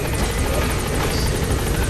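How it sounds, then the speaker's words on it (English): Loud, steady whop of helicopter rotor blades as a helicopter flies by in Metal Gear Solid V, close and continuous with a rapid rhythmic beat. "we do get a nice little flyby as Pequod flies to the new landing zone"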